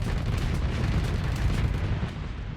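Mortar fire and explosions in the space combat game Starsector, a continuous rumbling barrage of overlapping low booms, dense and fairly loud, easing slightly toward the end with no speech.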